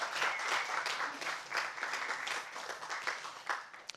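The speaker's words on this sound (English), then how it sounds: "And a round of applause as well for Colonel Cyphers and for Belfast Met" A crowd at the British Esports Student Champs League of Legends grand finals gives dense, steady applause that swells and then slowly thins, with a few scattered louder claps toward the end.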